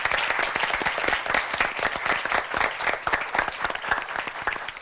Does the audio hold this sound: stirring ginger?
no